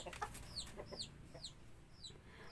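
Rhode Island Red chickens cluck in a backyard flock, a string of short, moderately quiet calls repeating every half second or so over a steady low background.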